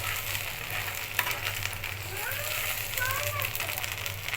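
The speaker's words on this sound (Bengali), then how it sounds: "রসুনটাকে আমি হালকা কিছুক্ষণ ভেজে নিয়েছি।" Ground garlic frying in a pan gives a soft continuous sizzle close by, with a brief utensil tap and faint background chatter or voices mixed in.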